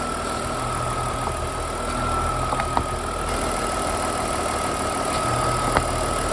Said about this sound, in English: with the engine nice and warm, there's a tiny bit of vacuum there when you lift the oil filler cap off